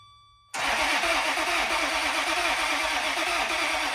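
Flooded Ferrari engine cranking on the starter without catching, a steady rhythmic churning with even compression pulses that starts suddenly after a brief quiet moment and continues loud and close.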